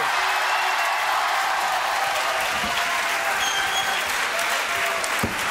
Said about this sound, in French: mesdames, messieurs, applaudissements pour Charlie